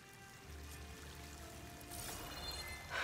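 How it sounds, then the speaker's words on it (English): A waterfall rushes in Horizon Forbidden West as a steady, soft broadband wash of falling water that swells slightly toward the end. "That waterfall must be coming from somewhere."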